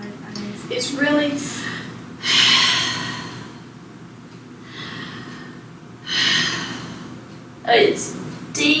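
A patient breathes deep and fast, trying to blow off carbon dioxide, with loud heavy gasping breaths in repeated bursts against a steady background noise and no talk.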